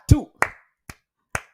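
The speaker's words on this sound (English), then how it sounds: "As usual, I give them hearty hand clap." Four sharp, separate hand claps spaced about half a second apart, close and fairly loud, counted out by a single person leading a small group rather than sounding like a full audience.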